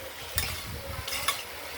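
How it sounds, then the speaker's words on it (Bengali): Finely chopped pointed gourd frying with black cumin in a wok, a soft, faint sizzle broken by a few brief scraping stirs. "আমরা কড়াইয়ের ঢাকনাটা খুলে দেখে নিচ্ছি পটল ভাজার অবস্থা কীরকম"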